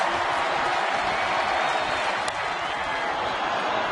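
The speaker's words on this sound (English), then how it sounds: "This is about as loud as I've heard a PNC Park crowd in a long time." A packed PNC Park baseball crowd roars with sustained, loud cheering and applause, a dense wall of noise that holds steady with only a brief dip.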